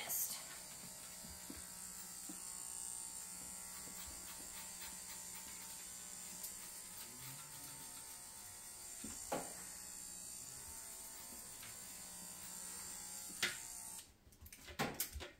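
Electric hair clippers buzz steadily and quietly through a quick fade haircut, with faint clicks and handling noises over the hum, then a few louder knocks and rustles at the end.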